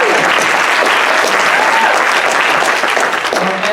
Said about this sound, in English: Round of applause for Wes White.